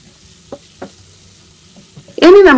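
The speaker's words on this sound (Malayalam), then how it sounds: "ഇതിനെ ഹൈ ഫ്ലെയിമിൽ 2-3 മിനിറ്റ് ഒന്ന് ഇളക്കി കൊടുക്കണം." Chilli chicken stir-fried on high flame in a pan, restaurant style: a couple of soft utensil clinks in near quiet, then a sudden loud, close burst of sizzling and stirring at the end.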